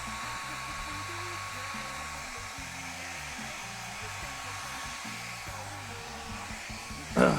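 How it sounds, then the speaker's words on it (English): A hair dryer blowing on thick paint for a painting, running as a steady continuous whir at moderate volume throughout, alone without speech, with a brief louder rustle at the end. "so we'll blow dry for a minute"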